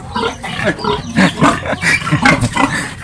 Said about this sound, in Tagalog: Oh, itong baboy nila.